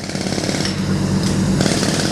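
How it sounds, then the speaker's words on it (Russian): Compressor-driven jackhammers break up the worn crossbeam at the top of an old bridge support, a loud, continuous rapid hammering that keeps going with no pauses. "Старое основание снимают с помощью компрессора с отбойными молотками."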